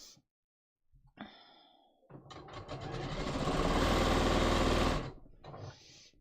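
A sewing machine stitching Japanese woven cotton shorts, with brief start-stop clatter and then a steady, close, whirring run of several seconds that ramps up and stops, alone without talk.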